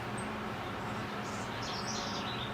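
House wrens sing faintly in the background: a few brief high chirps and trills rising over a steady low outdoor hum in a garden setting.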